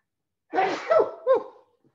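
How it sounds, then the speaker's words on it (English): A single person sneezes nearby in a quiet room, a sharp inhaled buildup followed by two quick explosive bursts, with nothing else heard. "Hold on, I feel a sneeze coming on here."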